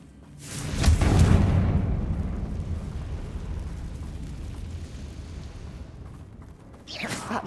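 A Confringo spell explodes in Hogwarts Legacy during a fight with Ranrock's loyalists, a heavy boom that swells and rumbles for several seconds before a second blast hits right at the end, with no speech over it.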